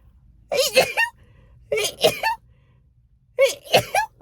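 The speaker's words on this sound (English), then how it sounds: "Oh my gosh, that was my sneeze." Three sneezes in a row, each a sharp breathy burst about a second apart, close and fairly loud, with quiet pauses between them.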